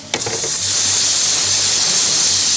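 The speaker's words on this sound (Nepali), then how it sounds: "यो लसुन अदुवाको पेस्ट चाहिँ हल्का हामीले फ्राई गर्नुपर्ने हुन्छ।" Garlic-ginger paste with red chilli, cumin and coriander powder sizzling in hot oil, a sudden loud hissing burst right after it drops in, then a sustained close, steady hiss.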